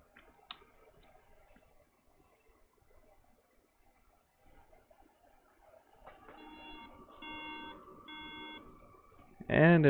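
A MacBook under repair beeps with a few short, evenly spaced high tones, followed by a louder burst at the end; faint talking and background noise sit under it.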